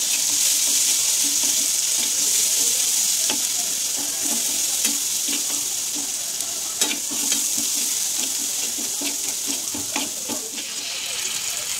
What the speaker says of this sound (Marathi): अद्रक आणि लसूणची पेस्ट टाकणार आहेत आणि त्याला पण छान असं परतून घ्यायचं